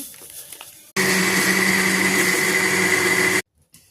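A mixer grinder whirs loudly and steadily for about two and a half seconds as it blends Dream Whip with cream for a biscuit cake, starting and stopping abruptly against quiet kitchen background.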